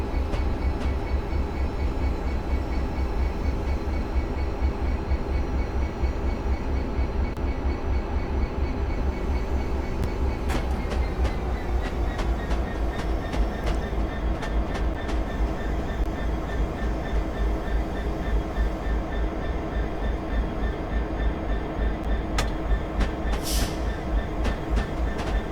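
A locomotive in Train Simulator 2021 runs on the Birmingham Cross City Line with a steady, droning engine rumble and a continuous rhythmic clatter of wheels over rail joints, loud and close throughout.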